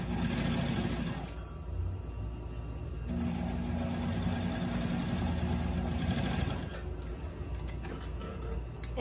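Sewing machine sewing a French seam on a blouse a quarter inch from the edge, running steadily and fairly close for about nine seconds with short changes in pace and no talk.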